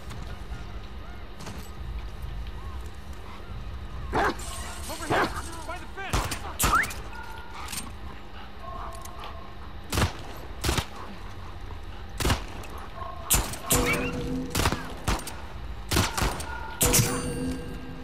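Gunshots ring out in the video game The Last of Us Part II as sharp, separate bangs, sparse at first and then coming in quicker clusters over a low rumbling background.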